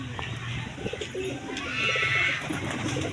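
Pet pigeons feeding together in the evening give soft, low cooing calls, moderately near amid faint ambient rustle and a few chirps, with no clear speech.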